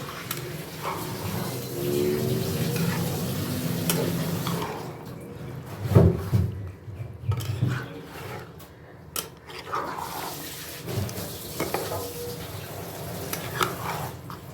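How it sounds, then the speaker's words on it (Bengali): Mixed vegetables with paneer being stirred in a pan, soft scraping and shuffling with a faint sizzle and a few louder clanks of the spoon, close and uneven, no talking. "এইভাবে আমি মিক্স ভেজ রান্না করি"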